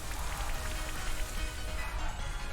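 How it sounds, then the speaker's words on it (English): Rain from the Rain Dance move in a Pokémon video game pours as a steady, dense hiss of falling drops, continuous and fairly loud with no voices. "Oh, they have Rain Dance."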